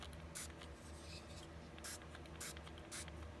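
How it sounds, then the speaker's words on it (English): Aegis EDCi protectant is sprayed onto a knife blade in several short, sharp hissing bursts close to the listener, separated by quiet rubbing. "just spray it on, as the bottle says, spray on, rub in, wipe off"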